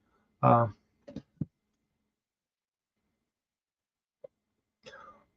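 One hard cough followed by a couple of smaller coughs, then quiet, a tiny click, and a brief breathy sound near the end.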